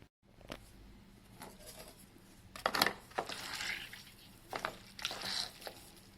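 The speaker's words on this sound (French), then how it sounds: "Vous pouvez entendre le bruit de l'eau qui sort" Water draining and dripping from homemade soy tofu being pressed in a tofu press, heard as soft intermittent patters and trickling squishes, fairly faint and close, without talk.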